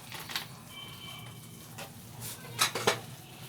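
A spoon scrapes and clinks against a pot while halwa is stirred, intermittent metallic taps and scrapes over a faint background hiss, close and fairly quiet.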